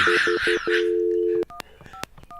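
Telephone busy signal from a dialed call, a run of steady short beeps followed by a long tone, then a few sharp keypad-like blips, fairly loud and close with no talking.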